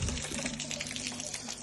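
Water drains steadily out of a blown car engine with its hoses and exhaust removed, a continuous close splashing gush onto the ground that runs without a break.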